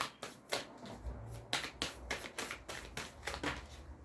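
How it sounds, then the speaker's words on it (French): Tarot cards are shuffled and drawn by hand, producing a quick series of crisp riffling snaps and soft slaps, close and quiet, in an irregular rhythm with no talking. "je tire une dernière carte, et on fait la pyramide"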